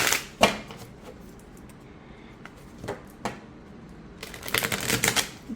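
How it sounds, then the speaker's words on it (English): A Soul Trees oracle card deck is shuffled by hand, giving short papery riffles and taps separated by quiet gaps and ending in a longer burst of card shuffling, close and fairly soft. "So let's shuffle the soul trees, the original soul trees first."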